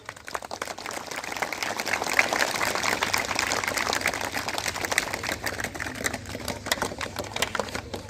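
Schoolboys applaud together at a school's annual sports day to greet the headmaster, a dense, steady patter of many hands clapping outdoors that carries on without a break.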